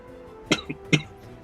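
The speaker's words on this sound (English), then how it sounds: "I can't seem to kick the cough" Two short, close coughs in quick succession, the second slightly stronger, with a faint catch of breath between them.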